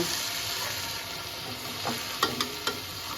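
Lote fish with its bones removed fries in a pan as it is stirred, with a steady close sizzle and a few sharp utensil scrapes and taps near the end, no talking.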